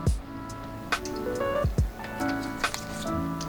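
Vegan sriracha ramen sauce of vinegar and soy sauce being stirred, giving repeated wet squishing strokes with soft thuds at a steady pace, close-up and moderately quiet.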